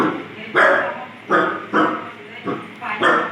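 Dogs barking at a house, a run of five loud, close barks and yips in an irregular rhythm, with a faint background murmur between them.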